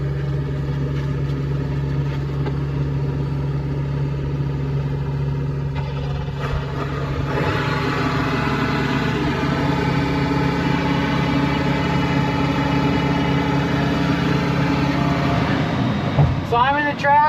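A diesel tractor engine idles steadily throughout in negative 47 degree wind chill on a dairy farm, low and chugging, with a brief metallic rattle near the end.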